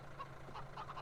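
Chickens in Farming Simulator 17 clucking faintly in a few short bursts over a steady low hum, the calls soft and somewhat distant.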